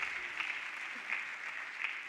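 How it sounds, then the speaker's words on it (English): Audience applause at a national congress held in a university hall, a steady, even wash of many hands clapping at a moderate distance, sustained throughout with no talk over it. "Can we give them a round of applause,"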